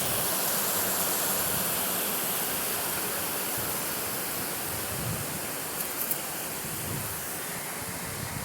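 A waterfall and rapidly flowing stream roar in a continuous, dense broadband rush, steady and close throughout with no pauses or voices.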